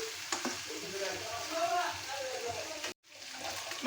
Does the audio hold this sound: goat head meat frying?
yes